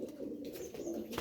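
A Sakhi Teddy pigeon gives soft, rolling coos close by, a low throaty warble that pulses steadily in a quiet setting.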